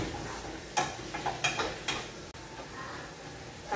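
Meat sizzles softly in a hot pan, with a few scraping stirs and light clinks of a utensil against the pan.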